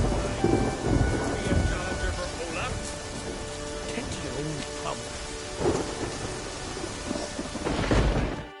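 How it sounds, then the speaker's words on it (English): A thunderstorm in The Witcher 3 on PS4, with steady heavy rain and repeated rolling thunder cracks that swell and fade over the downpour, loud and close throughout. "Storm, damn it."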